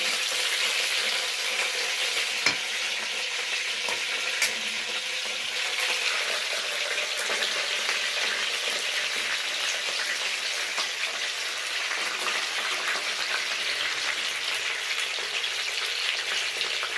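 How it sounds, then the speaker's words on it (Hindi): Chicken pieces frying in a pan with oil, a steady close crackling sizzle that continues evenly throughout with occasional sharper pops. "इसको भी हम हल्का सा फ्राई करेंगे।"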